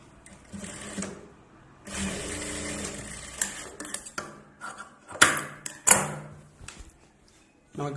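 A sewing machine stitches the side seam of a knit dress for a two-year-old in short, uneven runs, with clicks and handling noises between the bursts.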